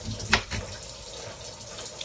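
A kitchen tap runs briefly over a red onion being rinsed, a short, close spatter of water with one sharper splash near the start.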